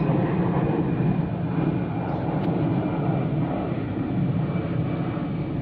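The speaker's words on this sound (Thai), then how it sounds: "เบิ่งเครื่องบินครับพี่น้อง" A fixed-wing airplane passes over a canal where people are fishing, its engine a steady, broad rumbling drone that fills the whole stretch at moderate loudness.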